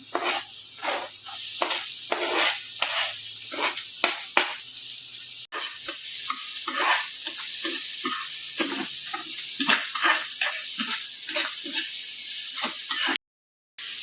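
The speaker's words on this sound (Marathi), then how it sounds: "सो पयलीं अनियन फ्राय करून घेता तळसून" Onions fry in hot oil in a pan, giving a steady, bright, close sizzle with crackling pops and stirring scrapes throughout, briefly cutting out near the end.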